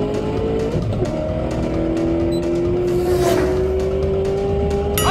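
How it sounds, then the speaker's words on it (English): A McLaren driving fast, its engine note climbing steadily in a smooth, loud, sustained whine, with a brief whoosh near the end and no talking. "He's driving way too fast."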